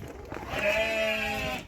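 A single sustained bleat from a sheep, close and clear, lasting about a second.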